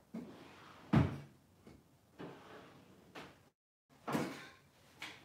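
A drawer opened at home, several wooden sliding knocks and thumps spaced over a few seconds, close and fairly quiet with no speech.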